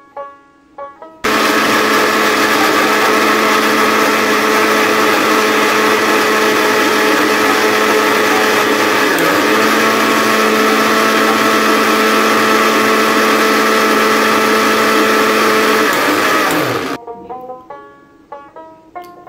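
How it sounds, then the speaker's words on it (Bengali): A blender whirs loudly at a constant high pitch as it blends ripe mango lassi, running steadily for about fifteen seconds before spinning down, with brief quiet moments before and after. "এখন ব্লেন্ড করার পালা"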